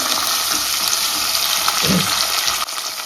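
Shallots with cinnamon, cloves and cardamom sizzle hard in hot oil for a Jaffna-style mutton curry, a loud continuous frying hiss with one brief stir near the end.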